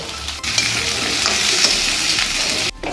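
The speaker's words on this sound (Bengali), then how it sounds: "এটাকে শাকটাকে আবার ঘুরিয়ে দেবো একটু" Malabar spinach greens being stirred in a pan with prawns, a steady scraping and sizzling that runs close and continuous for nearly three seconds before stopping abruptly.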